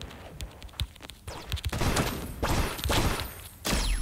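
Gunfire from the mobile video game Da Hood: several sharp, loud shots fire in quick succession, followed by sustained bursts of rapid fire, with no talking.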